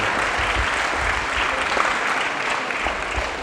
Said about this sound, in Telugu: ఒకసారి గట్టిగా చప్పట్లతో తాతలందరికీ కృతజ్ఞతలు